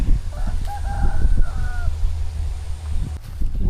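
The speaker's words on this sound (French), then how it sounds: "il y a des énormes coqs ici" Large roosters crow nearby, two or three drawn-out cock-a-doodle-doo calls overlapping over a rumbling outdoor background, with a person speaking at times.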